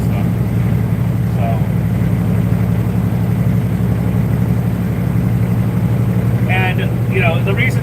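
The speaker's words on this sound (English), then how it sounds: "the reason she's probably pretty loud is this truck right here has a direct 10 in it and 264 gears" A semi truck with a direct 10 transmission and 264 gears rumbles loudly while driving. The heavy, low engine drone holds steady inside the cab, with brief faint chirps near the end.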